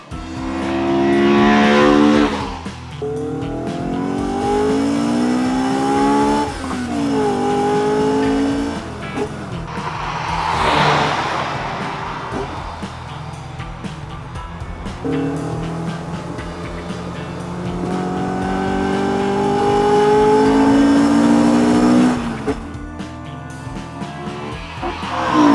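Honda S2000 engine revving toward 9,000 RPM, with repeated loud high-pitched climbs and drops through the gears, tire noise in between, close and dominant throughout with no speech.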